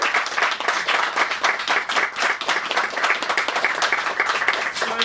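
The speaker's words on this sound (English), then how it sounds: "So, round of applause for them." A film festival Q&A audience claps for the filmmakers in a lively, sustained round of applause, many hands close and crisp with individual claps standing out throughout.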